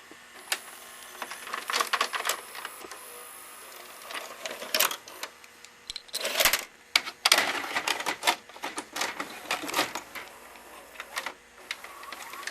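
Mechanical clicks and clunks from a Go Video dual-deck VHS VCR as a tape ejects, a busy cluster of whirring and clattering bursts close by, with no talking.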